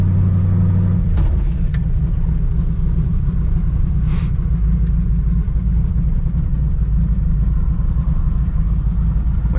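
A steady low engine rumble from a 1932 Ford coupe on the move, close and continuous, with a brief higher whoosh partway through.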